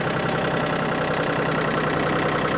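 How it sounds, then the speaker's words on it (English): A small tractor engine running steadily on a farm, a constant rough, rumbling idle-like drone that stays even and close for the whole stretch with no talking. "we're going to use the little tractor today"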